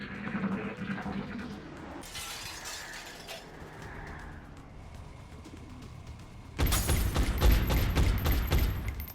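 Reaction-shot gunfire in the XCOM Enemy Within video game, with a burst of loud rapid shots and crackling impacts near the end, preceded by softer game effects and ambience.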